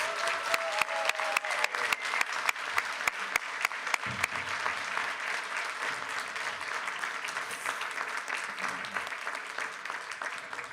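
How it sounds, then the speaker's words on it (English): Steady audience applause at a student-hosted meet-the-candidates event fills the room for about ten seconds, dense clapping from many hands with a few sharp, louder claps standing out near the front. "let's give a round of applause to the students that were able to host this"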